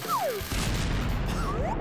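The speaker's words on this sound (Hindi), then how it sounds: "चलो थोड़ी आतिशबाजी हो जाए" Fireworks go off in an animated scene: rising and falling whistles of rockets over a dense, continuous crackle and rumble of bursts.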